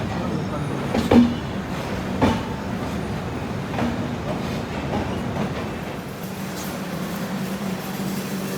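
A rumbling express train slows into Howrah station, with a low continuous roll, occasional wheel clanks and rail clatter, while voices murmur faintly in the carriage.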